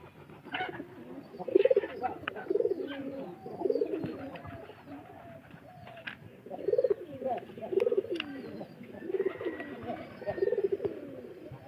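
Several pigeons coo in soft, rolling bursts that repeat every second or so, nearby and unhurried, with faint background rustling.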